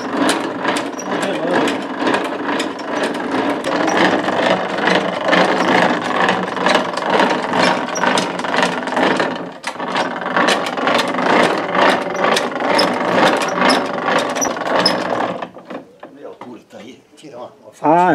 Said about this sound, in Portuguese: Ah, você tá regulando a serra aqui, é, né?